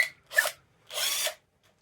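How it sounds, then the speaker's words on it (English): A power drill bores a hole into a block in short bursts: two close, loud whirring runs of drilling separated by a brief pause, with no talk. "But I'll drill one just so you can see out here."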